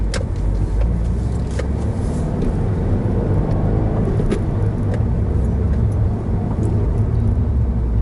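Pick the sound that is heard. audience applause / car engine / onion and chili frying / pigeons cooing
car engine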